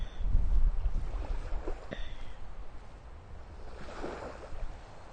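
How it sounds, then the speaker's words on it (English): Ocean waves wash against the Rhode Island coast in a soft, broad rush, with wind buffeting the microphone and a brief faint clatter in the middle, no voices. "Yes, that's the ocean."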